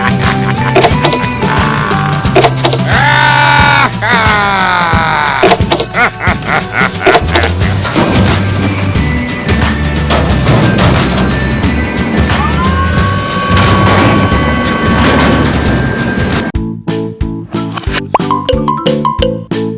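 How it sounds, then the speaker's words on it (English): Toy garbage truck's electronic sound effects: loud, busy, continuous synthesized noises with tonal sweeps and a choppy stuttering burst near the end, over a steady musical bed. "Garbage truck."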